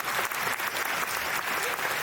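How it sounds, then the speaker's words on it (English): Dense applause from a crowd at a Las Vegas Star Trek convention, a continuous rush of many hands clapping at once, steady and fairly loud throughout the short stretch. "I don't need applause for that."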